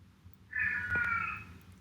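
An elderly house cat with dementia lets out one drawn-out, crying meow, close and fairly loud in a quiet room, with no talking.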